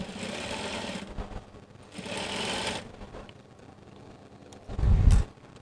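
A sewing machine stitches a zip onto a skirt in two steady bursts of whirring, separated by quiet pauses, followed by a louder low thump near the end.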